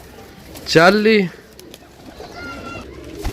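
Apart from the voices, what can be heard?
pigeon cooing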